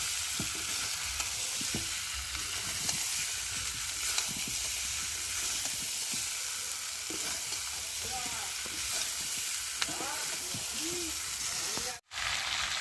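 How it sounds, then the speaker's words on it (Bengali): Potatoes sauté with spices in a hot pan for a vegetarian aloo dum, a steady sizzle and hiss with occasional scraping stirs, fairly close and continuous without talk. "দিয়ে মশলার সাথে আলুগুলোকে ভালো করে কষিয়ে নেব।"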